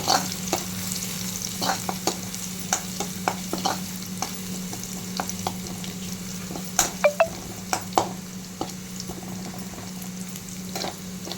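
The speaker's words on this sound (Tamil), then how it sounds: "இது லைட்டாக கொஞ்சம் கோல்டன் ஃப்ரை ஆகட்டும்." Eggs fry in a pan, sizzling steadily throughout, with scattered clicks and scrapes from stirring and a few sharper taps near the middle.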